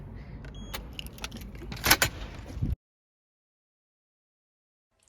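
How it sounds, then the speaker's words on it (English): A key fob on a bunch of keys jangles at a student residence door, with close metallic clinks and a few sharp clicks for about three seconds, then silence. "you get the big fob, you put it on this and it opens the door"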